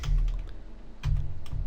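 A computer keyboard clatters in quick bursts of close keystrokes, with a brief pause between two runs of typing.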